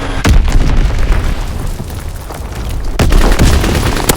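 Bomb blasts in the Call of Duty WW2 video game, loud booming explosions, one right at the start and another heavy hit near the end, with rumbling battle noise between.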